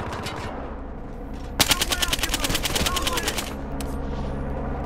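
Rapid automatic gunfire from a first-person shooter match in Battlefield Hardline on PS5, a loud burst of closely spaced shots lasting about two seconds over game ambience.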